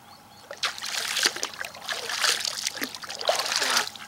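An Olight S30R III baton flashlight, switched on at a high setting, is dunked into outdoor water where ducks are about. Close, bright splashing and sloshing comes in several uneven bursts over a few seconds.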